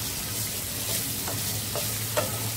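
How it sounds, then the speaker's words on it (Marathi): Paneer pieces fry in a pan with a continuous close sizzle and a low steady hum, broken by a few soft scraping clicks as they are turned. "आता दुसऱ्या साईडला सुद्धा आपण भाजून घेऊया।"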